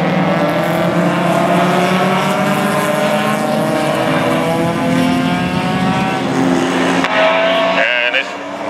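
Race cars on a closed-wheel circuit at Mission Raceway weave back and forth to warm tires and brakes, a loud continuous engine drone with rising and falling pitch, heard under a commentator's voice.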